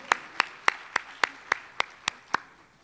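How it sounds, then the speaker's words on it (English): Slow, evenly spaced claps follow a performer's stunning singing at a stage event, nine crisp strikes in a steady rhythm with nothing else around them. "Let's give her another round of applause."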